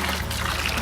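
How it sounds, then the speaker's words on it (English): Clear, cold fresh water pours from a hose tap during narrowboat daily checks, a brief close trickling splash under a faint low hum, with no talk. "That's now running clear fresh water"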